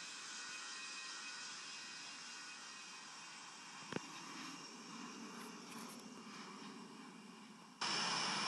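A steady, distant roar of an Avianca airliner engine doing a touch and go in the Infinite Flight simulator, a broad continuous drone with a brief click midway and a louder shift near the end.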